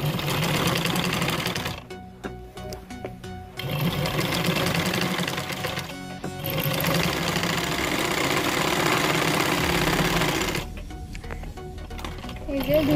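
A sewing machine runs in bursts while stitching a double row along a maxi dress neckline, its rapid rattling whir pausing briefly several times, with someone speaking between runs.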